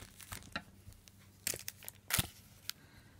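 SKE48 photo merchandise packs are torn open, with scattered crisp rips and crinkling of foil wrappers, close and fairly quiet, in irregular bursts.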